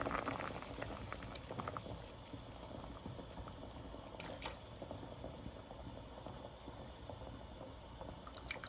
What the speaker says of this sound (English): I'm gonna allow the peas to, you know, boil some more and soak up all that coconut flavor